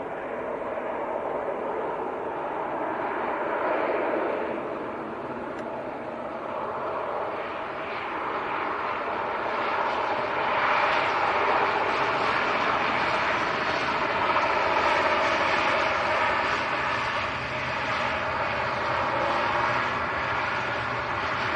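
An ATR turboprop airliner arriving from Guernsey at Manchester Airport, its broad engine and propeller roar steady and fairly loud throughout, swelling slightly toward the middle, with no voices over it.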